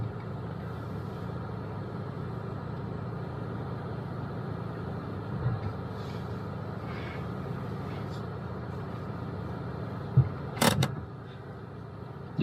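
A car engine idles in neutral during a driving test, a steady low rumble held throughout at moderate level, with a few short knocks and rustles near the end.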